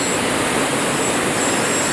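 Magnum motorboat engine running at speed during a speed test, a loud continuous broadband roar with wind and water rush, steady and close throughout.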